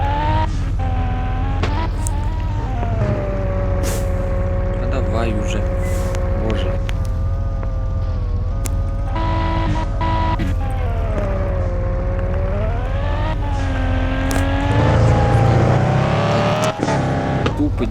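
A car engine drones and revs while drifting in the Car Parking Multiplayer video game, its pitch sliding up and down over a loud steady base, with someone talking over it throughout.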